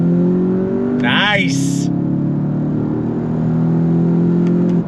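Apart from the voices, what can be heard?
2024 VW Jetta GLI accelerating in first gear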